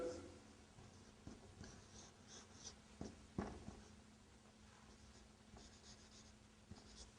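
Marker or chalk strokes on a classroom board while writing Arabic letters, faint scattered taps and short scratchy squeaks, quiet and close, with no talking.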